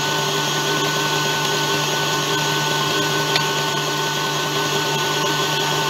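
An electric mixer whirs steadily and loudly as it beats egg whites to meringue for an angel food cake, a constant high-speed motor hum with no breaks.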